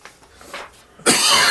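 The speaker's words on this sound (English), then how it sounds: "He coughed." A loud, sharp cough bursts in near the end, close to the microphone, after a stretch of faint breathy background.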